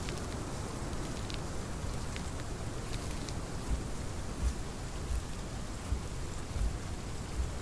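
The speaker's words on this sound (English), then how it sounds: "And there's the rain." Steady, soft rain falling all around in the video game Path of Titans, an even hiss with occasional low thumps.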